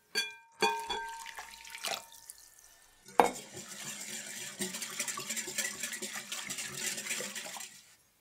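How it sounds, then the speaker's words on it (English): Hot water runs and splashes into a vessel, then a steady swirling and sloshing follows as salt and sugar are stirred in close by to dissolve for a brine. "dissolve the salt and sugar in 2 cups of hot water"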